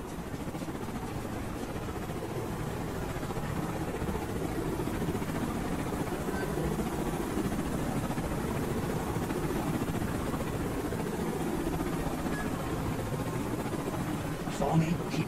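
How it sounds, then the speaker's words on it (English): A helicopter in the Call of Duty Black Ops video game gives a steady, dense rotor and engine drone that holds at an even loudness throughout, with a brief louder burst near the end. "Chopper's inbound."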